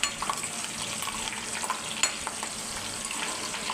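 Onion, green chillies and curry leaves frying in hot oil for an okra and egg fry, a continuous close sizzle and crackle with a few sharp pops and light stirring clicks.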